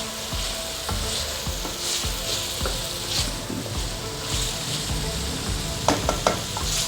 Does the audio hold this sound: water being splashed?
no